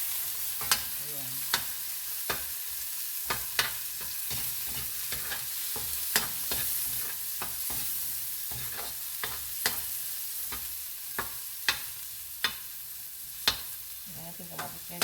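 Vegetables and tomatoes sautéing in a pan make a steady soft sizzle, broken by sharp clicks of a utensil scraping and stirring at irregular intervals.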